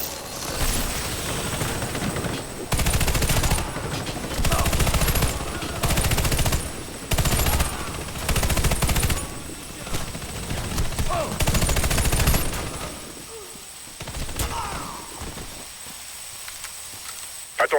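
Bursts of rapid machine gun fire in the video game Warface, several loud sustained volleys with short gaps between them, followed by quieter game ambience.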